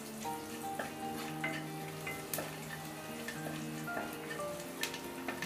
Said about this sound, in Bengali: একটু রসুন কুচি দিয়ে দিলাম, এটাকে সামান্য একটুখানি ভাজবো।